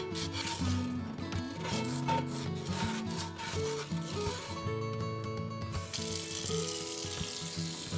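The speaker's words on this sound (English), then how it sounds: "I'm gonna use this plastic scraper to really get the rest of that buildup off the bottom" A plastic scraper rasps steadily against the bottom of a cast iron pan, taking off old buildup in a continuous rubbing, scratching rhythm, close up with no talking.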